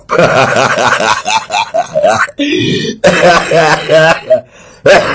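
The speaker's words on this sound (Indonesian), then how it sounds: "Sampai batuk-batuk gue" A few rough coughs and throat-clearing sounds break into lively close talk and chuckling, with a short noisy burst in the middle.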